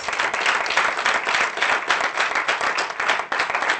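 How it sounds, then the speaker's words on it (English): A graduation ceremony audience gives a round of applause: dense, steady clapping from many hands that fills the whole stretch at a loud, even level, with no speech over it. "Let us give all of them again a round of applause."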